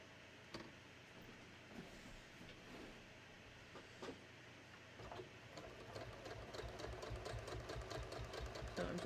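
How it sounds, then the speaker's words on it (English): A sewing machine stitches along a denim belt loop strip for jeans, starting with sparse stitches and building into a fast, steady, rattling run of needle strikes, fairly faint. "So I'm just going to stitch right along."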